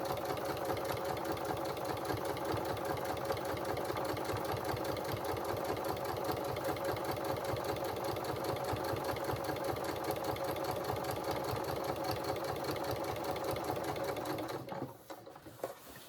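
A sewing machine runs steadily around a dress hemline, its rapid even stitching rhythm close and constant for about fourteen seconds before stopping abruptly with a brief handling noise.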